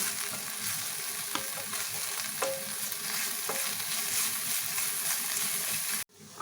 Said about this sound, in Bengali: এবার আদা আর রসুনটাকে আমি পেঁয়াজের সাথে হালকা করে ভেজে নেব